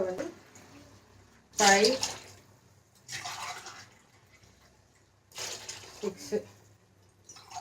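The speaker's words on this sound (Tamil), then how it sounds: "ஓகே தண்ணி ஊற்றியாச்சு." Water is poured into a pot for biryani in three separate splashing bursts, with a voice counting quietly in the gaps between pours.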